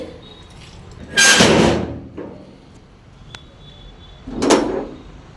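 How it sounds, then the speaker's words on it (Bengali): A household door is opened, giving two separate bursts of knocking and thudding a few seconds apart, close by and fairly loud against a quiet room. "এখন আমি এই দরজাটা খুলে"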